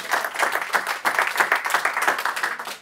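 A short burst of close, brisk clapping from a modest audience at a French round-table event, rhythmic and fairly dense, lasting under three seconds.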